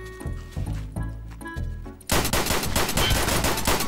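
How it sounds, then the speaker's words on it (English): Gunfire in the video game Escape From Tarkov: a few heavy single shots at first, then a dense, sustained burst of rapid automatic fire that stays loud and close to the end. "Why are they shooting?"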